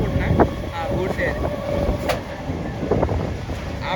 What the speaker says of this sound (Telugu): ఆ బ్రిడ్జ్ మీద ఒక ట్రైన్, ఈ బ్రిడ్జ్ మీద ఒక ట్రైన్.